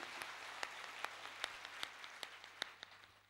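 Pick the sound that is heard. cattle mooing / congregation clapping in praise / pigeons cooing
congregation clapping in praise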